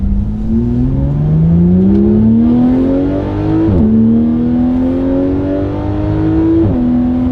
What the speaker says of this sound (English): I missed that high-pitched screaming titanium